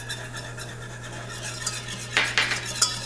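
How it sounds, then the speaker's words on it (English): Metal whisk stirring flour, chili powder and cumin into hot coconut oil in a pan, a soft steady scraping with a few louder clinking strokes near the end, close and alone. "if you don't like the sound of my whisk"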